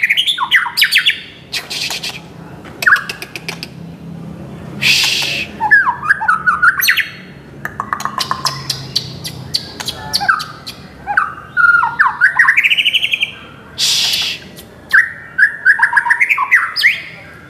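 A white-rumped shama, a competition songbird, sings loud and close in varied bursts of whistles, rising and falling phrases and sharp squawks, separated by short pauses, with no talking.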